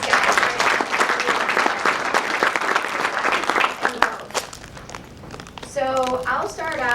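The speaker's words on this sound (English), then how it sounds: "give a quick round of applause to these guys" Audience applause at a finance panel discussion in Chicago, a room full of clapping hands that runs steadily for several seconds, then fades as a voice begins speaking near the end.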